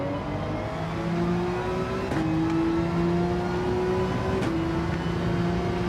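Gran Turismo 7 McLaren race car engine in-game, droning loud and steady as it climbs through the revs, with two sharp gear shifts dropping the pitch before it pulls up again.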